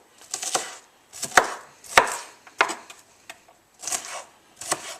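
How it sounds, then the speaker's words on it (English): Salad vegetables being finely chopped with a knife on a board, crisp irregular knife strikes in quick clusters with short pauses, close and fairly loud, no talking. "Get them chopped up nice and fine."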